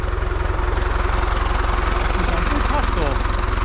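An old tractor engine idles steadily in a strong, even low throb with a fast regular pulse, while a voice speaks and laughs briefly over it.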